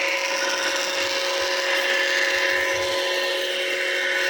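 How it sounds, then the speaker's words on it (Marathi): An electric water pump motor runs on a farm with a steady, loud whine and a constant hum close by, and no one speaks. "आता इकडचं मोटार चालू आहे बघा"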